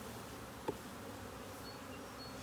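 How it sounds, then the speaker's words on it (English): Honeybees buzzing around an open beehive during an inspection, a steady close drone of many bees with one brief louder tap partway through, no talking. "Well, we still got plenty of bees in there."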